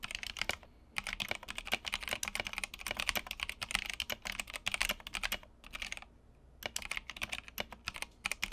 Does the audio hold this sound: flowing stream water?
no